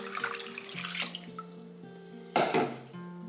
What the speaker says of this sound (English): I'm just gonna pour in some water.